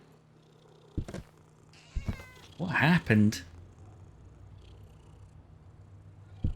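A cat in the horror video game Demonologist gives a low, steady purr under a brief meow-like cry and a few soft thumps, while someone speaks briefly.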